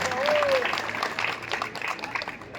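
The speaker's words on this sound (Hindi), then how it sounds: "ताली बजा के स्वागत करें।" Hall audience at a Vaishya community Diwali gathering claps in welcome for a BJP state president, the scattered applause blending with a voice speaking over it.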